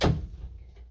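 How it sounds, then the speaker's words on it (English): A house door closing nearby, one short dull thump at the start that fades quickly into quiet room tone. "I gotta close my door."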